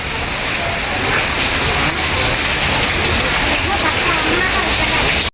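Heavy rain pours steadily over a rented room in Chonburi, a loud, dense hiss of drops drumming on surfaces that holds unbroken for several seconds before cutting off abruptly.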